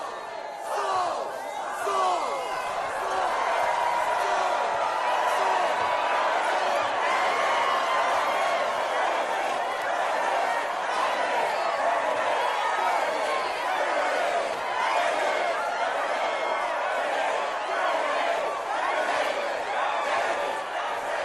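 A dense crowd roars and shouts together in celebration of David, a continuous loud wall of massed voices that holds steady from start to finish, with chatter and cries rising within it.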